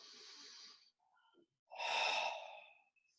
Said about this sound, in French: Respiration abdominale 2 fois